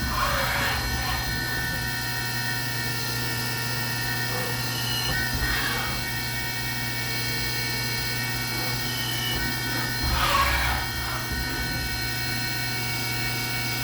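A router cuts 1/8 inch aluminum radius plates from a sheet fed across a tabletop, giving a steady high-pitched machine whine that surges a few times as the cut bites.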